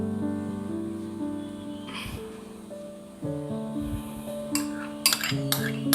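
A spoon stirs spices, vinegar and oil into a paste in a bowl for Lahori chargha. A few sharp clinks and scrapes come near the end, heard under steady background music.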